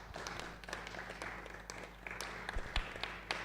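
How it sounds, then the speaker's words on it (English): Sparse, faint applause rises from a conference audience at a blockchain tech event in Brno as the CTO of Pendulum is welcomed to the stage, scattered claps ticking over a low hall hum for a few seconds. "So applause for him, please."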